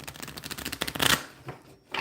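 A deck of tarot cards is shuffled up close in a fast riffling flutter that builds to a louder burst, then a brief pause and a final soft shuffle.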